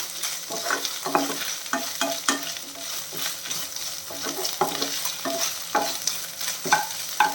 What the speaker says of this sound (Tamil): ரெண்டு பச்சை மிளகாய் ஒரு துண்டு இஞ்சி கொஞ்சமாக கருவேப்பிலை சேர்த்துடலாம் சேர்த்துட்டு இதோட பச்சை வாசம் போகிற வழி வரைக்கும் வதக்கிடலாம்